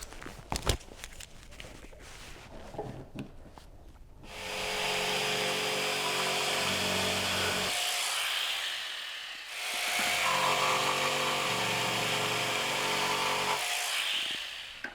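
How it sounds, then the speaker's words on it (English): A jigsaw cutting rough lumber, buzzing loud and steady in two long passes with a brief pause between, after a stretch of handling and knocking noises. "I'm going to be using my jigsaw"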